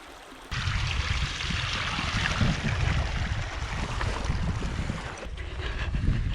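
The Strain River, headwater of the River Swincombe on Dartmoor, rushes in a continuous broadband roar close to the microphone, with wind buffeting mixed in.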